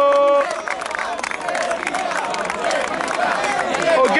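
Crowd at a freestyle rap battle tournament final applauds and cheers with a dense, steady roar of clapping and voices that builds and holds loud throughout.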